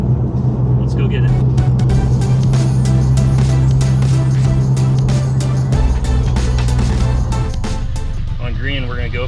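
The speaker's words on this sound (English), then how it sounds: "We're cruising in the Mustang." A Ford Mustang drives on the road with a steady, loud engine drone and road rumble from inside the cabin, while a person talks over it for most of the stretch.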